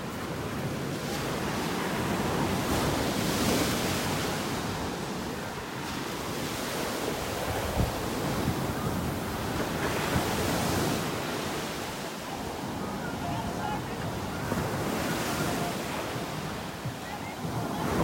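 Ocean surf on a beach in North Naples, Florida: a steady wash of breaking waves with slow swells in loudness and some wind buffeting the microphone.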